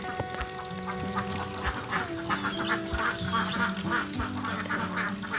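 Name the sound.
laying ducks quacking in pen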